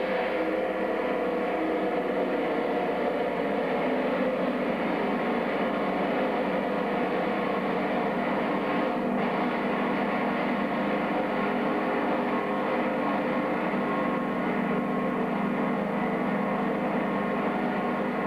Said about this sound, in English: The aircraft taxis and comes to a halt.